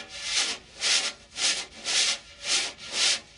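A wire brush dragged stiffly across a snare drum head, six even back-and-forth swipes with a raspy, sawing texture, close and steady.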